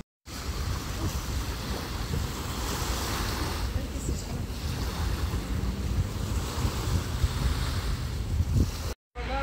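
Sea surf rolling onto a shore beside a seaside breakfast spot, a continuous wash of breaking waves mixed with heavy wind buffeting the microphone, steady and fairly loud for the whole stretch.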